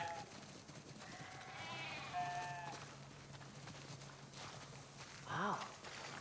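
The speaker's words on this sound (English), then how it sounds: "Wow, that's a lot of sheep." Sheep bleat and shuffle along on foot in a farm scene from The Last of Us Part II, a few clear bleats over steady hoof and footstep noise, fairly quiet overall.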